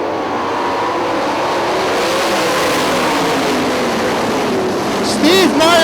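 Twenty-four IRA sprint race cars roar off at Hartford Speedway Park, a loud, dense engine drone sweeping across the track with rising revs near the end, under an announcer's talk.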